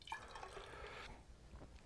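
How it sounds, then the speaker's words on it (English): Water is poured into a measuring vessel, giving a faint, brief trickling splash that fades into quiet dribbles. "So let's put in some water."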